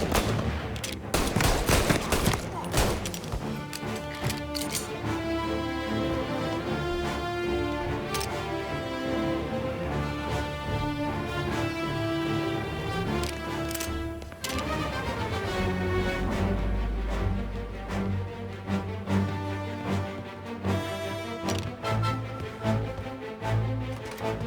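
Gunfire in the video game Mafia: Definitive Edition, with repeated sharp shots and bursts heard over loud, dense orchestral game music and effects.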